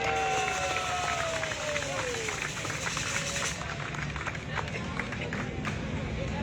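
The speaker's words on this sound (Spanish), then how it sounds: "Así que un aplauso, compañeras y compañeros." Union members in Panama applaud a donation from hospital doctors. Steady, dense clapping and crowd noise run the whole way, with voices murmuring beneath it.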